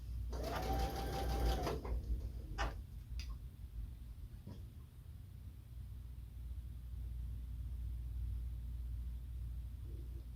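A sewing machine runs in one short, close burst while sewing quilt blocks together in rows, then stops, followed by a few faint clicks and quiet room noise.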